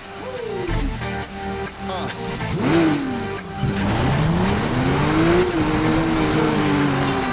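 Race car engine in the Need for Speed Rivals video game, revving and shifting through gears with swooping pitch changes and tire noise, loud and continuous throughout.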